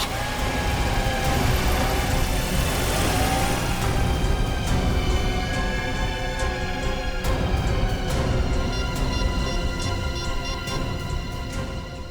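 A car engine runs steadily as the car drives off, a constant loud rumble that continues without a break.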